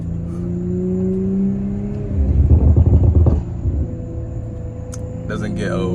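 A 2021 Audi RS5 with an aftermarket exhaust, its engine idling in a low rumble and then briefly revving louder before settling back, heard up close.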